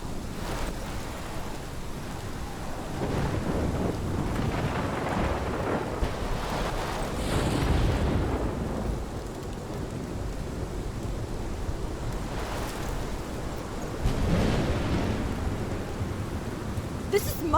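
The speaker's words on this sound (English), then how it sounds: "This is my storm." Storm in Life is Strange: a steady wash of heavy rain and gusting wind, with deep rolling thunder swelling around the middle and again near the end, continuous throughout.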